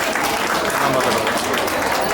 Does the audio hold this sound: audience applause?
yes